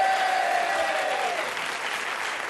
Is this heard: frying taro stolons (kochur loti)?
no